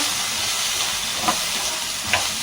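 Punugulu fritters frying in hot oil give a steady, close broadband hiss with a couple of brief sharper sizzle pops.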